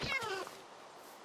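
A cat meows in the video game Minecraft, one short, clear meow standing alone at low volume.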